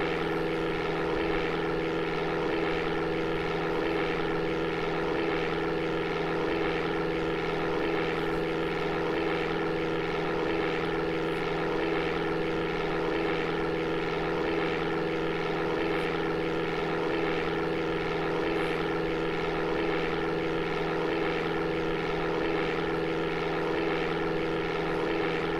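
Steady droning propeller airplane engine from the Amiga Flight Simulator II, a constant near hum with stable tonal bands holding unchanged and alone for the whole stretch.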